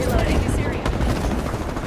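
Rapid automatic gunfire from the battle royale video game Apex Legends, dense overlapping bursts rattling continuously at mid distance, with talk over it.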